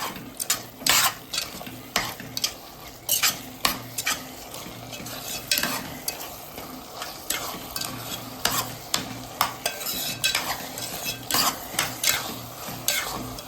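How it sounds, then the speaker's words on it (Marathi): Shrimp with salt and turmeric stirred in a sizzling pan for kolambi bhat, a spatula scraping and clacking in an uneven rhythm over a soft steady frying hiss, close up with no talking. "आपण मीठ टाकणार आहोत आणि हळद आपण ही ॲड करून याला मिक्स करून घेऊया छानपैकी."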